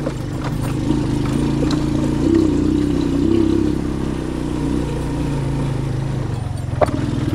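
A motorcycle engine runs on a mountain road with a close, rough, rhythmic drone that swells briefly in the middle, followed by a sharp clack near the end.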